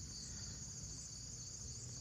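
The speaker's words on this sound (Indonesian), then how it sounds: "hanya ada suara jangkrik" Crickets chirp at night in the Alas Purwo forest, a thin, steady high trill on a windless, quiet night, faint and unbroken with nothing else heard.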